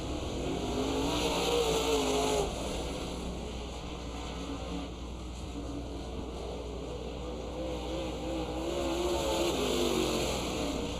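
Race cars circling the track at Dixieland Speedway, a constant loud engine roar that swells and fades slightly as the cars pass, carrying on alone throughout.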